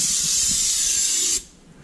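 Corrosion X lubricant sprays in one steady, loud hissing burst onto the drive chains of an Argo ATV, then cuts off abruptly, leaving near silence.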